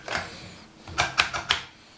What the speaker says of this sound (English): you can hear the switch clicking away there